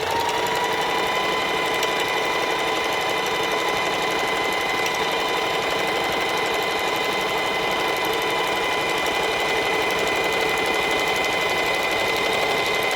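A sewing machine stitches a feather fringe in a steady, continuous whir with a constant motor hum, close and loud throughout with no talking.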